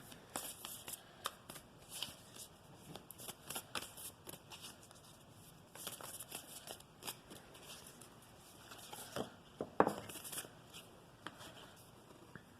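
A deck of Moonology oracle cards is shuffled by hand, giving soft, papery riffles and slides in irregular bursts. The sound is quiet and close, with no voices.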